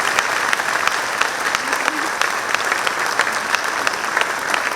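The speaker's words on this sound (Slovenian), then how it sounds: "Tako da mislim, da jim lahko damo en velik aplavz za vse," A town audience in Škofljica, Slovenia, bursts into sustained, dense applause, a steady wash of many hands clapping close by with scattered louder claps and faint voices underneath.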